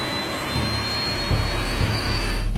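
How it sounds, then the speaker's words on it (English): Jet engines of the TWA Flight 800 airliner spool up to takeoff thrust, a loud continuous roar with a steady high whine that swells and rumbles throughout, no voices. "Takeoff thrust."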